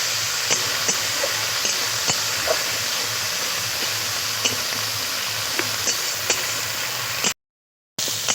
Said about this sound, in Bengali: এই আদা রসুন কাঁচা লঙ্কা পেঁয়াজ বাটা একসঙ্গে দিয়ে সব খুব ভালো করে একসঙ্গে ভেজে নেব